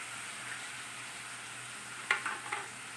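Finely chopped onion frying in a pan over a medium flame, a steady soft sizzle with a few brief stirring clinks near the end.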